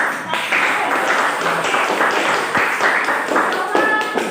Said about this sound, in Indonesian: Oke, baik, sekali berikan aplaus dulu.